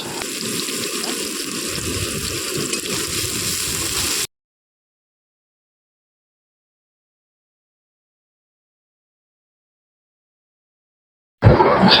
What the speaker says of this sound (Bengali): এবারে এই তেলের মধ্যেই দিয়ে দিলাম কুচিয়ে রাখা পেঁয়াজ।